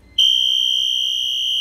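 A fire alarm connected to a security system suddenly sounds after a short quiet moment, producing a loud, steady, piercing electronic alarm tone that continues unbroken, close and alone with no talking.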